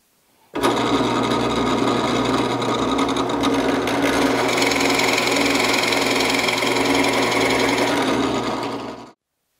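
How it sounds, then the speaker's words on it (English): A drill bores recesses into a wooden board for a display case, making a loud, steady, buzzing machine roar that starts abruptly, holds for several seconds close by, and cuts off sharply. "So I'm gonna go ahead and set that up and I'll drill this whole board."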